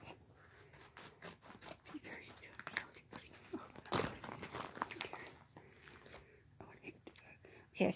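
Amazon packaging is torn and crinkled open by hand, with close, soft rustles, snips and crackling rips, and quiet whispered talk throughout.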